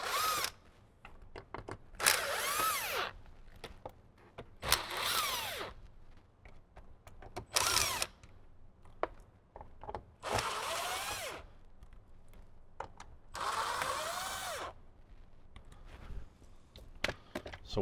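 Repeated short whirring bursts of a power driver backing out the six screws holding a Jeep JL dash airbag, several separate runs with quiet pauses and faint handling clicks between them.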